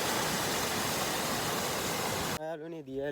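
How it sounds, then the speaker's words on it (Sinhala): A small waterfall in rainy forest near Dehenakanda gives a steady broadband rushing roar for most of the stretch, then cuts off as a person starts speaking. "යාළුවනේ දියැලක් වාගෙන"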